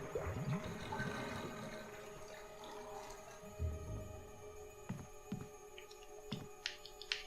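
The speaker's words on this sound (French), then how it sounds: "vider la baignoire." A salt-filled bathtub drains in the bathroom of the 2002 Resident Evil game, a gurgling water flow fading into scattered drips and faint thuds, with no talk.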